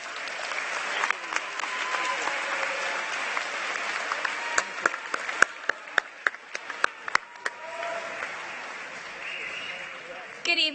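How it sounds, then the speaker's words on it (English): An audience at a city celebration applauds the D10 Park Heroes, with sustained crowd clapping marked by sharp individual claps near the middle that fades out toward the end. "Please give a round of applause for D10 Park Heroes."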